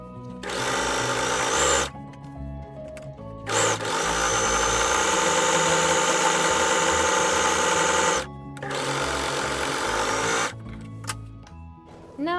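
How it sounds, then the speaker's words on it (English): An overlocker serges along the top and bottom edges of a fabric doll skirt, running in loud sustained bursts of fast mechanical whirring separated by brief pauses. "we will be overlocking the top of the skirt as well as overlocking the bottom of the skirt"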